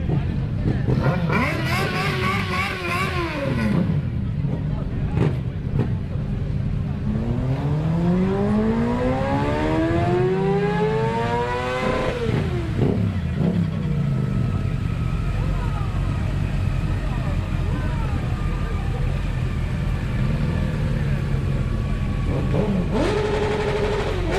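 A Yamaha motorcycle with an Akrapovic exhaust revs repeatedly, pitch sweeping up sharply and dropping back, loud and close, with a droning idle between bursts.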